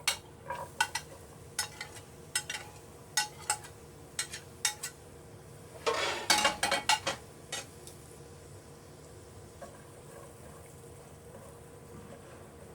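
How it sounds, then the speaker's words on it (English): Onion, pepper and garlic frying in oil are stirred in a pan, a series of light spoon taps and scrapes followed by a denser clattering burst, over a soft steady sizzle. "You want to just stir this and leave it for about 2 minutes to cook up in that oil"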